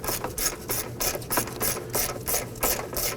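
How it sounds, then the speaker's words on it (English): A ratchet with an extension and 10mm socket loosens a bolt on a 2005-2009 Subaru Legacy 2.5L H4 during ignition coil work, giving steady repeated clicking strokes, close and distinct with no talk. "Using our ratchet extension and 10mm socket, loosen and remove this bolt."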